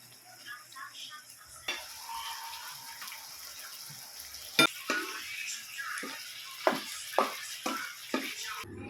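Adobo broth bubbles and sizzles softly in a pot, a quiet steady simmer broken by a few sharp clicks and spoon-against-pot knocks, with no talking.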